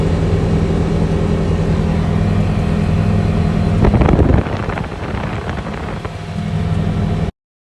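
A Polaris Ranger UTV on large tires driving along, its engine a steady loud rumble under heavy wind buffeting, easing off briefly midway before building again and cutting out abruptly.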